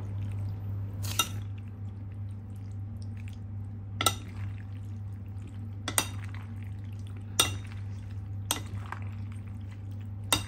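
A Filipino-style sweet creamy macaroni salad is mixed in a bowl, with soft wet stirring under a steady low hum and a few distinct utensil knocks against the bowl at uneven intervals, close by, with no talk.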